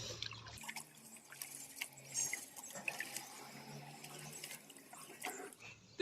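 Jute sack being washed with water, faint sloshing, splashing and dripping with scattered small knocks, quiet and irregular throughout.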